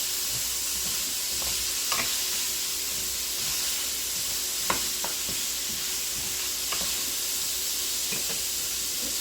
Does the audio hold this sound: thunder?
no